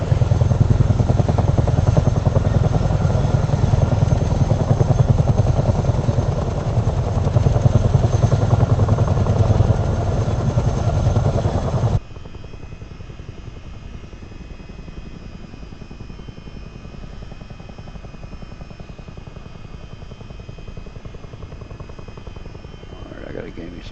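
Military helicopter in flight at night, a loud steady rotor and engine roar that cuts out abruptly halfway, leaving a quieter, muffled cabin drone with faint voices.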